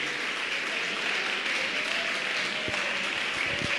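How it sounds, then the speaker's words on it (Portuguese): Church congregation clapping for Jesus during a live Sunday worship service, a steady wash of hand claps filling the room throughout, with a couple of sharper thumps near the end. "Dá salve de palmas para Jesus."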